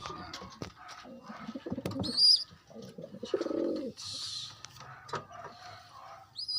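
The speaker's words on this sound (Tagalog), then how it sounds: "Ito na yung mga anak nila kalapatids." Pigeons and their young give scattered low coos and soft grunts at close range, mixed with brief higher chirps and small rustling knocks.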